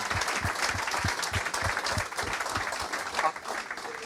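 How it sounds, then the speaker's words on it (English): A live audience at a rugby club event in Dungannon breaks into applause, dense continuous clapping from many hands filling the room, with faint voices mixed in beneath. "A round of applause, I think."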